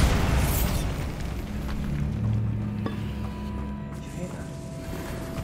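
A Bombarda spell blasts open a barricaded archway in the Hogwarts Legacy video game, a booming burst followed by rumbling debris and mechanical settling, with a voice calling out over the start.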